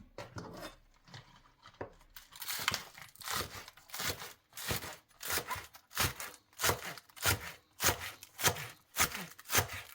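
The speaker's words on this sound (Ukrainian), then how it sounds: "Тепер беремо цибульку і дрібнесенько її нарізаємо." A knife chops a bunch of green onion finely on a board in quick, steady, closely spaced strokes, close up and alone.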